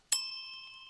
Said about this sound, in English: I didn't even notice the bell.